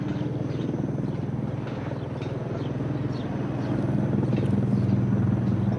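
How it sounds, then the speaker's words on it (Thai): An NYPD police helicopter flies overhead in New York, its steady rotor thrum and engine drone holding at moderate loudness and swelling slightly near the end, with no talk. "ถ้าเห็น NYPD คือเฮลิคอปเตอร์ตำรวจ"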